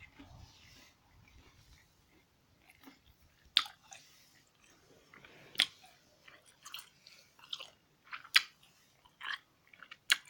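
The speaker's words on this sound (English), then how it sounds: "gum chewing video" Gum being chewed close to a microphone in a quiet room, with soft, irregular wet smacks and sharp clicks spaced a few seconds apart.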